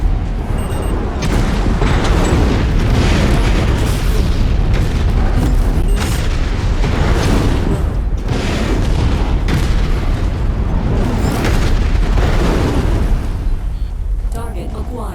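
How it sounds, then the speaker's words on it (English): Enemy mech exploding in the video game MechWarrior 5, a heavy, continuous barrage of deep booms and rumbling blasts, loud and close, with a few brief game voice callouts over it. "Enemy mech destroyed. It's gonna explode."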